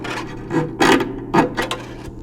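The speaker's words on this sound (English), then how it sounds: "I grasp the washer on the inside and the ball and then just pull the string right on through" Phosphor bronze harp string pulled through the harp, a few short raspy rubbing bursts, close and fairly loud, with no talk.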